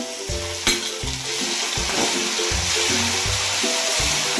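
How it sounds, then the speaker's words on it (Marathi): Onion frying with ginger-garlic paste crackles in a loud, close, unbroken sizzle, with repeated rhythmic scraping of a spatula against the pan. "कांदा भाजलेला आहे आता आपण याच्यात अद्रक लसणाची पेस्ट घालून घेऊया"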